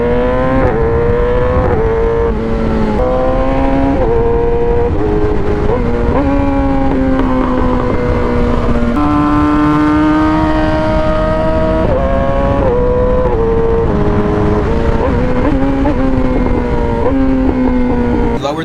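An aftermarket IRC auto-blip quickshifter on a motorcycle works through the gears: the engine revs loudly and continuously, its pitch climbing, dropping briefly at each quick shift, then climbing again, close up with no talk.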